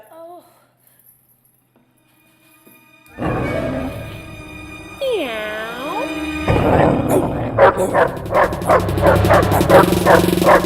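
A dog barks repeatedly in a rapid series of loud, close barks, mixed with whines and other noise, while people talk excitedly over it.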